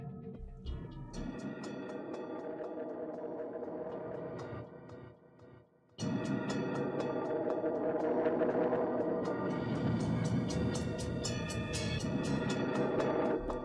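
Bell Waves patch from the Albion One orchestral sample library: shimmering, echo-laden bell tones swell over a dense ambient pad, dropping away briefly midway before returning brighter and fuller, alone without talk.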